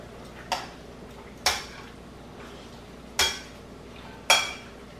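A spoon scraping and clanking against a pot while spaghetti carbonara is stirred with a cheese and egg mixture: four separate metallic knocks spaced about a second apart over a quiet background, with no voices.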